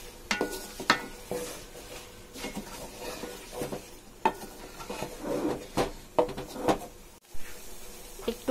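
Mango pieces being stirred in a pan for sweet-sour mango pickle, with irregular scraping clinks of a spoon against the pan over a faint sizzle, close and alone.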